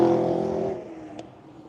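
A race car on a track lap roars nearby and then fades as it pulls away, the engine note dropping off over a second or so.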